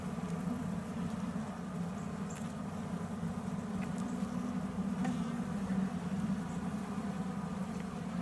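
Newly hatched, very tiny young bees give a soft, steady hum close by at the hive, a low continuous drone with faint scattered clicks and no talking.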